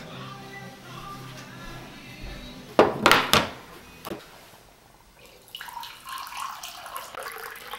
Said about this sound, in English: this is Berkey water.